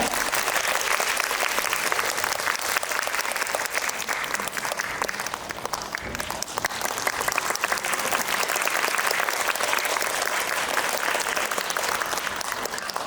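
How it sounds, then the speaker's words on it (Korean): A large audience at a mountain film festival Q&A screening applauds steadily and loudly to welcome an actor on stage, sustained dense clapping with crowd noise throughout and no talk over it. "큰 박수 부탁드립니다"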